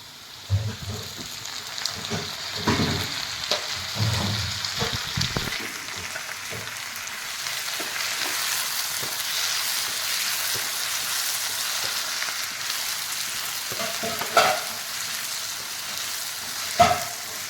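Garlic sizzling in oil in a pan for an egg roast, a continuous close frying hiss with occasional stirring scrapes and clinks, no voices.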